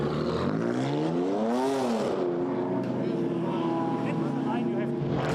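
A BMW GT4 race car blasts out of the pit lane at Paul Ricard, its engine note rising through a sweeping rev before settling into a steady drone, with a commentator talking over it.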